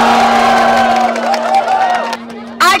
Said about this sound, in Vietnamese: Ai cổ vũ Đức Mộ thì vỗ tay